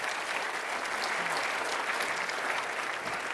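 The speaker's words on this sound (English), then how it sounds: "A round of applause for the gentlemen." Audience at a conference applauds two speakers, a dense, even wash of clapping from many hands held steady at moderate distance without a break.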